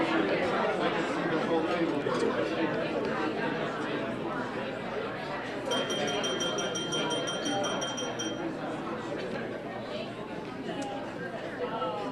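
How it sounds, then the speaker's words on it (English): A glass tapped for attention at a breakfast awards event, a run of light clinks rising briefly over a loud room of crowd chatter. "I think she's going to get an additional award for tapping her glass"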